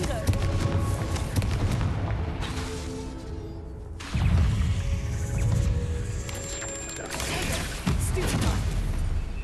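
Confringo fire spells cast in the Hogwarts Legacy video game, heavy booming blasts and crackling impacts layered with game effects and rumbling, loud and continuous, with two strong bursts partway through.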